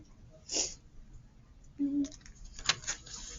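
A single sharp sneeze bursts out early, followed by a short snort-like exhale and some breathy noise, fairly close and not very loud.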